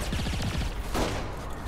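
Rapid gunfire bursts in the open-world action game Saints Row IV, a quick rattling volley followed by a heavier blast, loud and close amid game noise.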